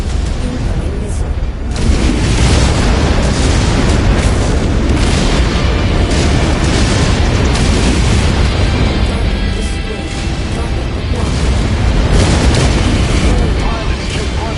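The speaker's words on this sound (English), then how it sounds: "Incoming missile." Missile explosions in a mech combat video game, a continuous loud rumble of heavy booms and blasts packed closely together, with voices talking under the din.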